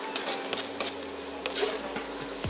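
Onion and green chillies sizzle in hot oil, a steady close crackle with a few sharper pops and light stirring clicks, no voices.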